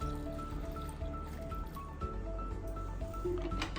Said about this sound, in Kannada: ಇದಕ್ಕೀಗ ಸ್ವಲ್ಪ ನೀರನ್ನ ಸೇರಿಸ್ತಾ ಇದ್ದೀನಿ